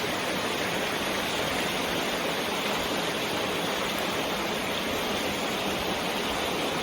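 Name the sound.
water current rushing after removing a beaver dam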